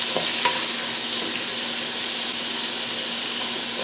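Vegetarian meat sauce for lasagna sizzles loudly in a pan as it is stirred, a continuous close hiss with a few light scraping knocks.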